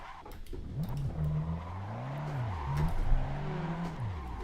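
A GT4 race car loses grip on the Nurburgring in Assetto Corsa online multiplayer, its engine note rising and falling continuously with tire squeal, loud and close throughout.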